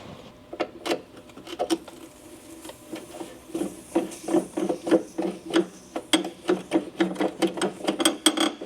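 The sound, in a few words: wrench turning a seized nut on a pipe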